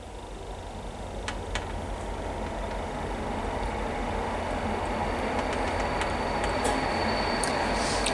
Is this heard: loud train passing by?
yes